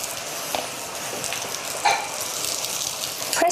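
Oil-brushed bread slices sizzle and hiss steadily on a hot char grill pan, with a constant close crackle and a few small pops.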